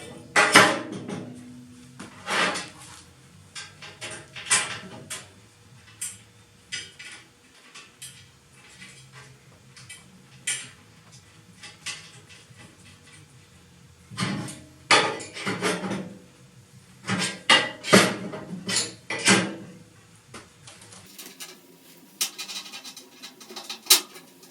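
Sharp metal strikes of a hammer on a line-up punch while removing the forks from a Kubota B3030 loader. Separate blows land in scattered clusters, close and loud, with quiet pauses and faint clinks between the groups.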